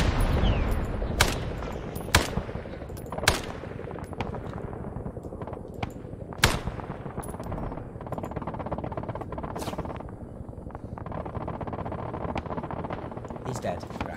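Heavy gunfire and grenade-launcher blasts in the Vietnam War combat game Arma 3 S.O.G. Prairie Fire, with dense continuous shooting broken by sharp loud explosive cracks throughout, under occasional voices.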